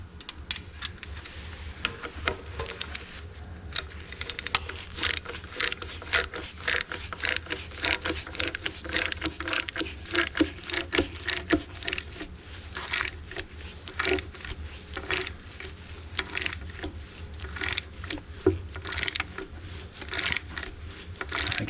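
A bolt is ratcheted to pull a pin from the PTO of a 1855 tractor under restoration, producing a steady run of close metallic ratchet clicks in a rapid, repeating rhythm.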